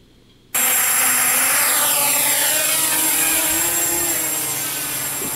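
An Emax Nighthawk 250 quadcopter on its maiden flight at a park gives a loud, steady high-pitched motor whine that starts abruptly after a quiet half-second and holds close and continuous, with pitch sweeping as it maneuvers.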